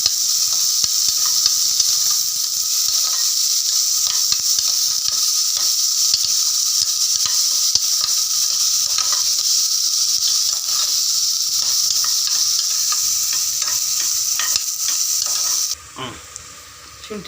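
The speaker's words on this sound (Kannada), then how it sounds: "2 ಈರುಳ್ಳಿ ಸಣ್ಣಕ್ಕೆ ಹಚ್ಕೊಂಡಿರೋದನ್ನು ಹಾಕೊಂಡಿದ್ದೀನಿ. ಇದು ಬ್ರೌನಿಶ್ ಆಗಬೇಕು ಚೆನ್ನಾಗಿ" Two finely chopped onions fry in a pan until browned, giving a loud, steady, hissing sizzle that holds for most of the clip before dropping abruptly near the end, with light stirring scrapes underneath.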